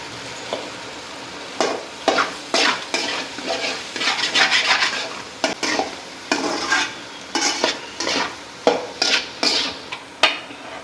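Beans and egg poriyal is stirred in a pan with a spatula, giving loud, close, repeated scraping strokes over a light sizzle.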